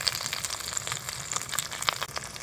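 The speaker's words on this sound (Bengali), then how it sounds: "প্রথমে মশলাটা কষিয়ে নেবে, তাই জন্য পেঁয়াজ দিয়ে দেওয়া হলো।" Onion and spice paste frying in a pan for home-cooked chicken, a quiet continuous sizzle with scattered small crackles and pops, close by and without speech.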